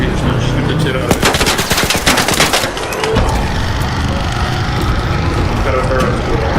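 Sustained automatic gunfire aimed at the Queen boss in the Arc Raiders video game, dense rapid bursts for the first few seconds followed by continuous roaring battle noise and rumble, loud and close throughout.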